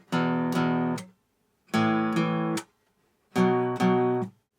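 Electric guitar strums out three power chords, each hit twice in quick succession and left to ring briefly, separated by short pauses.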